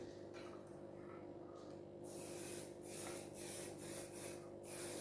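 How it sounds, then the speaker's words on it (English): Cooking spray is misted into a muffin pan for ham, cheese and broccoli muffins, several short hissing bursts in quick succession, close and alone over a low background hum. "I just want to do a proper spray so they don't stick"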